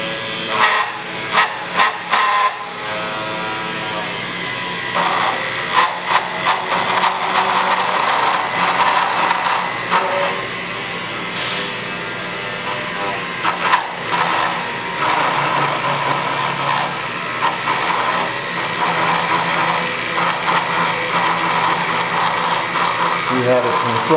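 A plunge router cutting wood grinds loudly and almost continuously, broken by several short bursts and dips in level, with a few brief knocks early on.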